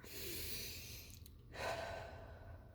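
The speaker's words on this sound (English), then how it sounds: "let's take a deep breath" A slow, audible deep breath drawn in and let out close to the mic in a quiet room, a soft airy inhale followed by a fuller exhale.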